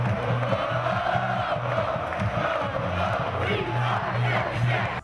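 The Penn State football student section cheers during a game, a dense, continuous crowd roar with rhythmic chanting and whoops, loud and sustained throughout.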